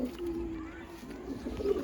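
Low, sustained coos from pigeons at a pigeon show, one drawn-out call followed by a second rising one, close by over faint ambient noise.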